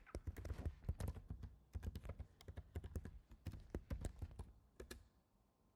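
Fingers typing a password on a computer keyboard for a Raspberry Pi, a quick irregular run of crisp close key clicks that slows and fades at the end.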